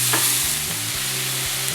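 Chicken tossed into a hot pan for a toasted sandwich filling sizzles steadily and loudly up close, with a few stirring scrapes over the constant frying hiss.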